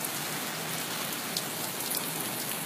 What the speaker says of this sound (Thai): นี่ครับน้ำฝนเห็นชัดไหม